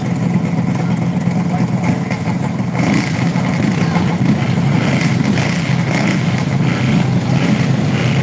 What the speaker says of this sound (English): You can hear the engines getting ready.